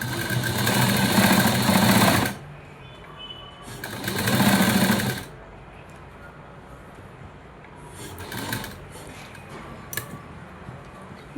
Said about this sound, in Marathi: आणि स्टिच करून घ्यायची लावून।